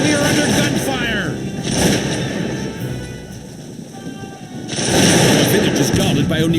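Heavy gunfire and booming blasts roll continuously through a loud battle in the game Cossacks 2, with sustained rumble and bursts swelling near the end.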